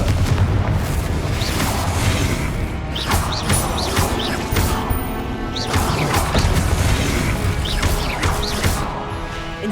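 Fire spells cast in the Hogwarts Legacy video game, loud whooshing blasts and booming bursts repeating every couple of seconds over a dense, continuous bed of game sound effects and music, with no talking.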